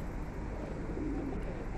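Pigeons coo softly, a low brief call rising out of a dense, steady wash of background noise on a rainy day.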